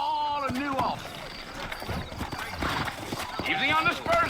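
Horses clip-clop and neigh in the Red Dead Redemption video game, with rhythmic hooves, loud whinnies near the start and end, and a voice talking over the hoofbeats.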